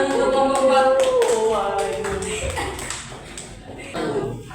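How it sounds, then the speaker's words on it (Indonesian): Applause for a group in a classroom, a crowd of hands clapping steadily and close, with a voice speaking over it at the start. "Tepuk tangan untuk kelompok"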